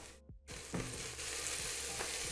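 Tomatoes go into a pan of sautéed garlic and onion and fry with a soft, continuous sizzle, briefly interrupted by a short dropout and a clatter as they land, then settling into an even hiss.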